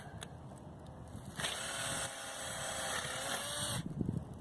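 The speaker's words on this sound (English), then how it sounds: "another way to clean it out is just stick your drill back in there. And just run it in and out, really fast" A power drill whirs steadily for several seconds in a maple tap hole, its pitch rising and falling slightly as it runs in and out, close up.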